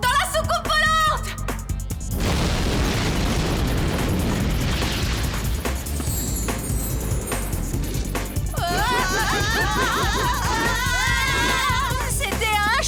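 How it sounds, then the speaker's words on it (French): A cartoon bomb goes off inside a flying saucer with a loud, sustained blast and rumble, followed by whooshing effects and bright chirping tones near the end. "Une bombe dans la soucoupe volante."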